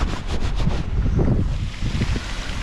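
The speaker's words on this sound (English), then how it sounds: "Why's the wind blowing my way?" Gusty wind buffets the microphone beside a pond, with a fountain nearby, giving a steady rushing roar that rises and falls without speech.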